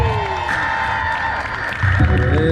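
A Dallas, Texas crowd at a Native American Heritage Month performance cheers and applauds loudly and steadily, with a swell of whoops near the end over a continuous wash of noise.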